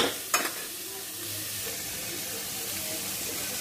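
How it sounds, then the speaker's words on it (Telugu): Mixed vegetables frying in a pan with a steady, close sizzle running throughout, and a brief clatter of stirring near the start. "వేగుతున్నాయి కదండి, బాగా వేగుతున్నాయి కదండి."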